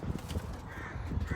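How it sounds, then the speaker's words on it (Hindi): A crow cawing in the background outdoors near a tree and a chicken coop, its calls faint and distant over a low rumbling, wind-like noise. "कौवा बोल रहा है पीछे"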